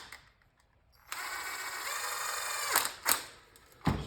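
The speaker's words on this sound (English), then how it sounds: "And then use your drill to finish it." A power drill whirs for a couple of seconds, then several sharp clicks and clunks follow as it tightens down a nut, close up.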